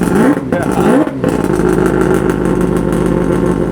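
A RE-Amemiya three-rotor, triple-turbo rotary-engined car revs hard nearby, with two sharp rising blips and then a loud, buzzing steady drone that fills the whole stretch.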